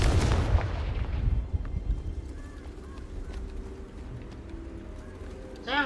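A Confringo explosive spell goes off in the video game Hogwarts Legacy: one loud, booming blast at the start, then a decaying rumble with quieter game sounds after it.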